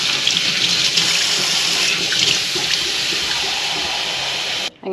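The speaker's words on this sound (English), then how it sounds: "filling that up with some hot water" Hot water gushes from a kitchen tap into a small bowl holding a capful of bleach, a loud, steady close-up rush that runs nearly unbroken until it cuts off abruptly near the end.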